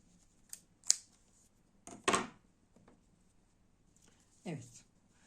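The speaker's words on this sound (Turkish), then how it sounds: "ipimi kesiyorum." Scissors snip crochet yarn in a quiet room, giving a few short, crisp cuts spaced apart. A faint rustle and a soft swishing sound follow near the end.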